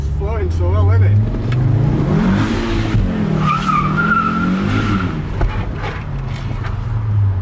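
Audi RS engine-swapped VW Caddy driving past in the dark, a loud, steady, deep engine drone with rising and falling revs and a brief tire squeal, close and continuous.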